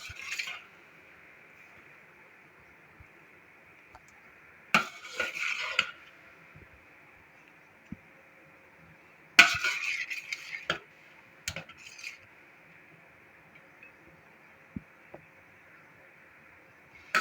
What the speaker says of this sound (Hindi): अब हम चावलों को हिलाते हैं